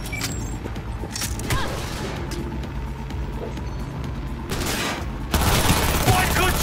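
Gunfire in the video game Cyberpunk 2077 crackles in a sustained, dense fusillade with mechanical noise underneath, steady and loud, growing harsher and brighter toward the end, with speech mixed in.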